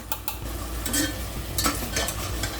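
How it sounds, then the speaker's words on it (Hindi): Ginger garlic paste frying with salt and turmeric in a pan, a close sizzle broken by repeated scraping stirs of a spoon against the metal; no voices. "नमक और हल्दी के साथ इसे हम भून रहे हैं"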